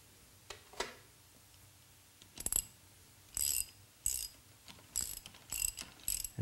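Tool clicks and ratcheting while a motorcycle countershaft sprocket bolt is tightened, in short bursts of sharp metallic ticks separated by brief pauses, close and moderately loud.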